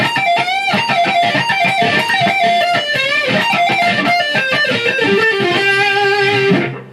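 Distorted electric guitar plays a fast palm-muted riff, loud chugging rhythm with quick pull-offs and a ringing chord at the end, alone without voices.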